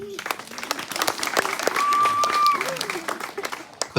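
Clapping from an audience at a hypnosis show, scattered and fairly close, with a voice talking over it and a brief tonal whistle-like note in the middle.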